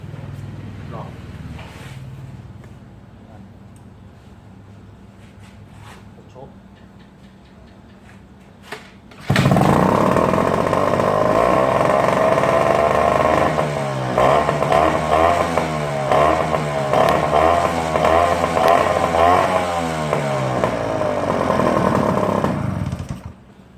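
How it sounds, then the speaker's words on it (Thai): A Yamaha two-stroke boat engine with a modified carburetor, cleaned after dirty fuel, starts abruptly and runs loud and close, revving up and down repeatedly before cutting off, with talk heard beforehand. "เครื่องเรือยามาฮ่าสองจังหวะ"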